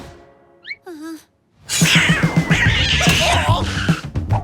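A cartoon cat in a French animated series gives a few short, close meows, then a loud, drawn-out yowling caterwaul with rapid thumping beneath it.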